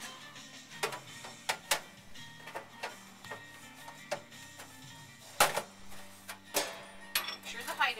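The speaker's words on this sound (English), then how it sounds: "So we're going to load it into the printer." Direct-to-garment digital shirt printer loading a pressed shirt on its platen and starting a production run: repeated mechanical clicks and ticks at an uneven rhythm, fairly faint, with people talking over it.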